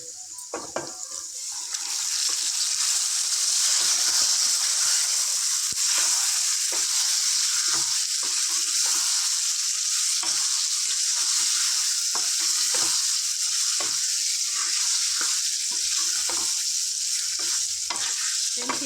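Chicken livers drop into a hot pan and fry with a loud, continuous bright sizzle and hiss, with stirring noises throughout and no voices.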